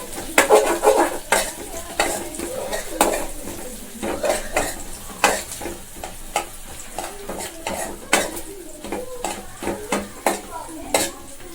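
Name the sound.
onions being sautéed and stirred in a pan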